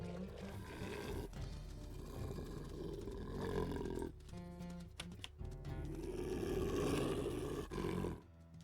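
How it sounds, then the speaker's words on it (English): A wolf growls in the WolfQuest video game, a deep, rough, sustained rumble that carries on for several seconds with brief breaks, loud and close over a low, steady background. "Yukon's up there growling too."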